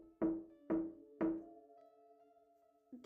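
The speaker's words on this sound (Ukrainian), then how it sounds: "вночі почувся з самого першого будинку стук у двері" Three loud, hollow knocks on a house door at night, evenly spaced about half a second apart, each ringing out briefly, followed by a low sustained tone and a faint tap at the end.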